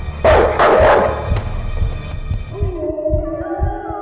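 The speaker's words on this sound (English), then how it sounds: "why does that one dog sound like Patrick?" Dog barking in the Night People horror video game: a couple of loud, harsh barks near the start, followed by quieter thumping, throbbing sounds and a sustained tonal hum toward the end.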